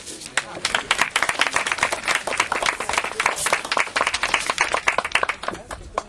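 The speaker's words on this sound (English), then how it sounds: "Give her another round of applause." A crowd at a middle school groundbreaking ceremony applauds a school board member, a steady, fairly close patter of many clapping hands with faint voices mixed in.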